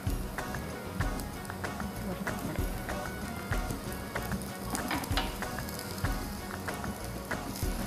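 Oil sizzles steadily in a pan as something fries on a Marathi cooking show, a dense continuous crackle with frequent sharp pops, while people talk over it.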